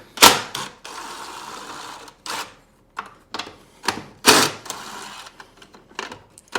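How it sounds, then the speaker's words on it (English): Ratchet fitted with a 13mm socket loosening three bolts on an Alltrax AC1 controller in a Club Car Precedent golf cart, giving sharp metallic clicking bursts in several separate runs, close up with no talk. "we're going to use a 13mm socket to remove these 3 bolts away from the controller"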